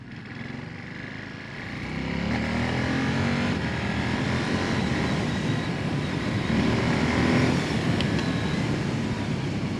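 A Ducati Monster motorcycle engine rumbles at a lower level, then swells into a louder, sustained droning roar after a couple of seconds and holds there, close by with no talking.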